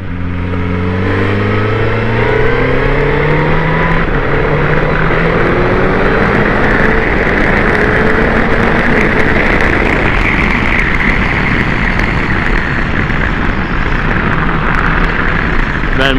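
A powerful 2024 Suzuki GSX-S1000GX sport motorcycle engine revs up hard through the gears, pitch climbing in rising sweeps, loud and close.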